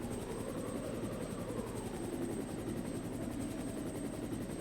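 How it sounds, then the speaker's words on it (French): A helicopter in the Resident Evil Director's Cut game produces a constant, loud, pulsing rotor thrum and engine roar overhead, steady throughout with no talk. "Vous voyez l'ombre, mais pas l'hélicoptère en lui-même."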